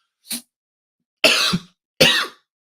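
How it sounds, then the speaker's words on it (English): Three dry coughs: a short faint one, then two louder, harsher coughs about a second apart, close and alone with no talking. "I'm coughing sitting there talking about it"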